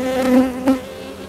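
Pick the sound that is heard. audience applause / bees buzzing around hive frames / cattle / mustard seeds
bees buzzing around hive frames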